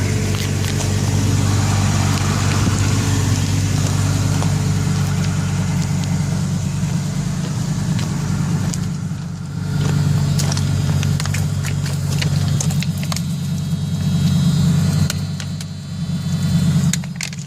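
A warmed-up car engine idles steadily and continuously in the foreground, a low rumble with some faint metallic clinks and slight fluctuations in level, with no talking.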